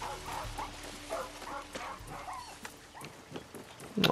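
A dog in the video game Far Cry 6 gives soft barks and whimpering yelps at a moderate distance, with a few sharper noises near the end and no voices.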